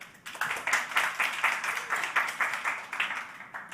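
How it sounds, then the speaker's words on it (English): Applause from an audience at a climate accelerator demo day, a room full of people clapping in dense, even bursts for several seconds without talk. "It's very nice to receive some actual applause and not added from the technical team"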